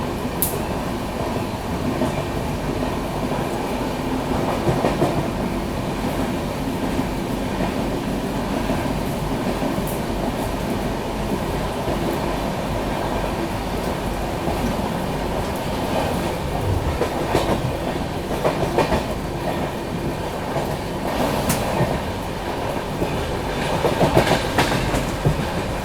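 The Garib Rath Express between Jabalpur and Mumbai rolls along the rails with a steady, loud rumble and rhythmic clickety-clack, heard from inside the coach, punctuated by occasional brief metallic squeaks and knocks.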